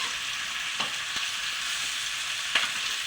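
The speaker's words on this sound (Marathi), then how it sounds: "पण मिरच्या तळल्या गेल्या पाहिजे, लालसर काळपट असं थोडं" Stuffed green chillies fry in oil in a pan with a steady, even sizzle, broken by a few soft stirring clicks.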